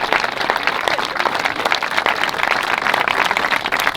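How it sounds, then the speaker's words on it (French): Group applause for the team at a gaming event in Hyères, a steady dense wash of clapping lasting the whole stretch at even loudness, with no speech over it. "Donc applaudissements pour la team de hier"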